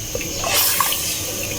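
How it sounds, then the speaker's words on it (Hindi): Water pours into a pot of cooked meat (mutton) in a home kitchen, a short steady splashing gush that swells briefly in the middle and then settles, with no talking. "अब हम इसमें पानी ऐड करेंगे।"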